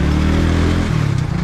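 A motorcycle is ridden along the Larkana–Shahdadkot road, its engine droning loud and close with a low, pulsing rumble that shifts pitch slightly as it rolls on.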